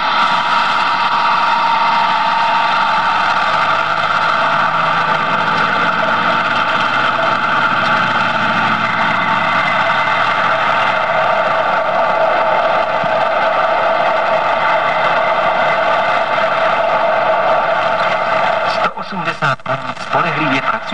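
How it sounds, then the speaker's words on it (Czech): A Tatra 138 6x6 truck engine-brakes while descending an off-road slope, giving a steady, loud droning engine note that holds level for the whole stretch before turning choppy at the very end. "Při jízdě se svahů se osvědčuje motorová brzda."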